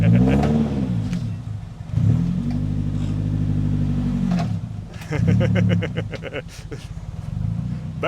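A rusty 1995 Mercedes W124 E200 petrol engine runs and revs repeatedly, rising and falling in several close, loud surges over a steady idle, with someone speaking at times between the revs.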